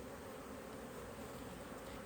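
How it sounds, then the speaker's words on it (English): A large honeybee colony buzzes in the bottom box of a beehive, a steady close droning hum that stays even throughout with no voices. "There's a whole bunch of bees in the bottom box as well."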